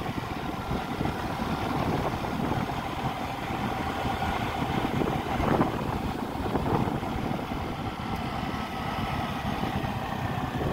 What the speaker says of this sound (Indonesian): Gue lagi naik motor nih.